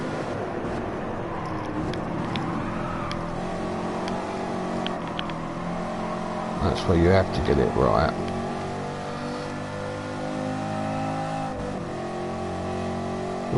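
A 1960s American car's engine in a racing video game drones steadily throughout, swelling into a louder surge partway through, beneath continuous talk from a player.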